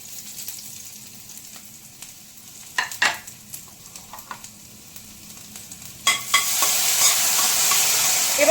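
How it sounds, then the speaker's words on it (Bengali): Chopped garlic dropped into hot oil, first some quiet kitchen clatter and scraping with a couple of sharp knocks, then a loud continuous hiss of frying that swells up and holds near the end, with no voices. "তেলটা গরম হয়ে গেছে, এবার এর মধ্যে দিয়ে দেব কুচিয়ে রাখা রসুন"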